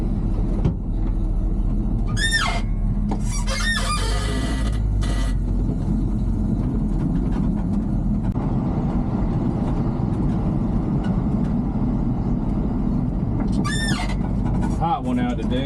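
A 1980 Chevrolet C20 square body truck with a 4-inch lift drives on a road, its steady low engine and road rumble continuous throughout, with brief high squeals and someone talking over it.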